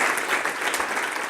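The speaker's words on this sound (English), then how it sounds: "So let's give her another round of applause." Steady audience applause fills a short stretch at a Road to Resilience emotional intelligence workshop for the Duke Clinical Research Institute, a dense, even clatter of many hands with no pauses.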